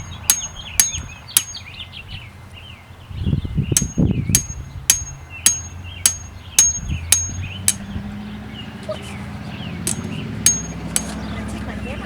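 Sharp metallic hammer strikes ring out at a steady rhythm, about a dozen blows, driving a rebar fence post, with a brief rustle partway through and birds chirping faintly behind.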